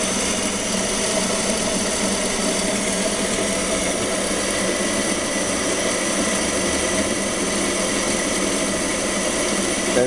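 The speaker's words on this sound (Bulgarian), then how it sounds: "Мотора се развърта все повече." A rotoverter's electric motor, fed about 12 volts and running near 50 Hz and 900 rpm, gives a loud, steady whirring drone that holds constant throughout with no talking.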